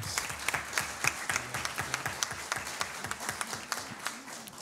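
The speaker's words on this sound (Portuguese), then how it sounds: "Uma salva de palmas." Audience at a public hearing applauds to welcome a speaker, a dense, steady round of many hands clapping throughout, moderately loud and close, with faint voices beneath.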